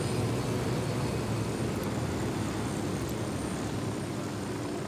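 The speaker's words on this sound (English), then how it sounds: "These helicopters are that fucking quick." A helicopter in the video game Ghost Recon Wildlands gives a steady, loud rotor-and-engine roar that drones on without letting up.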